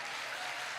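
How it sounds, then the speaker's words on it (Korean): An audience at a business lecture applauds in a dense, continuous wash of clapping, steady and moderately distant throughout the brief moment with no talking. "여러분, 박수 한번 주시겠습니까?"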